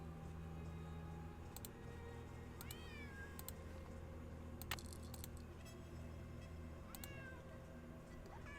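A cat meows repeatedly in the Nancy Drew game Secret of the Old Clock, several short rising-falling calls spaced a second or so apart over a low steady background hum, with faint ticking in between.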